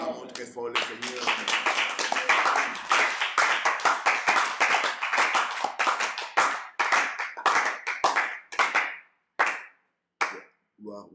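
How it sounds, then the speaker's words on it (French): A church congregation at a night prayer gathering claps loudly in a fast, steady rhythm, with voices mixed in, and the clapping thins into scattered final claps before stopping. "Acclamons très fort le Seigneur."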